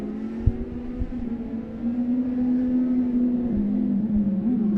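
Rallycross cars race round the Mondello Park circuit, a distant, steady engine drone with slowly wavering pitch and a few faint thumps, moderately quiet throughout.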